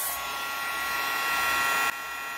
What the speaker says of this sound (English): I'm just going to take my heat tool and dry this.